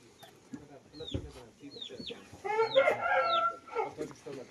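A rooster crows several times, the calls rising and falling, followed by a denser burst of clucking and crowing from fowl at a poultry sale, fairly close and loud.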